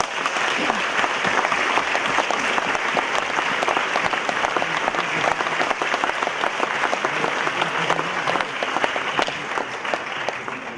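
A hall audience at a Slovak anniversary discussion event gives long, sustained applause, dense and even clapping from many hands throughout, loud and continuous without pause.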